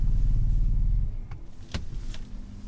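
A 2012 Mercedes C350 Coupe moves off through snow, a loud low engine rumble that eases after a second, followed by a few sharp clicks and knocks nearby, with no voices.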